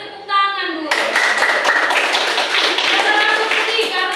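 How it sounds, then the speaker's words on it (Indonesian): A class of schoolchildren claps hands together in a steady, dense burst of applause-like clapping, loud and close, following a brief voice at the start. "Kita tepuk tangan dulu."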